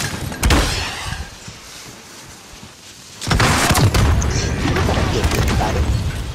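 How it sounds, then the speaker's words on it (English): A rocket launcher round explodes in Call of Duty Modern Warfare, a loud booming blast followed by a sustained roaring crash and rumble, with a second heavy impact partway through. "How did he survive a rocket launcher hit?"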